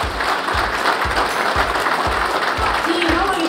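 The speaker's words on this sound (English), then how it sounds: "So a round of applause to all of you that are here today." A crowd claps for truck drivers at a driving championship, continuous applause over a regular low thumping beat from background music, with voices faintly mixed in.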